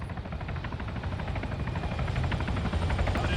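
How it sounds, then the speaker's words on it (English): Helicopter flying in the Arma 3 Contact game, a steady rhythmic rotor thump with engine drone, loud and slowly growing nearer. "You hear that? Sounds like a helo."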